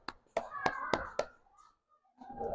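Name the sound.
children clapping for a group in class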